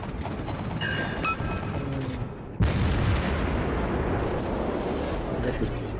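Naval guns fire in World of Warships with a sudden heavy boom midway, followed by a loud rumbling roar, while excited voices talk over the battle.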